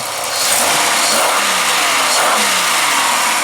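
A Chevy Malibu engine running after a torque converter replacement; it climbs into a loud, steady mid-pitched drone within the first half second and holds there, close to the listener.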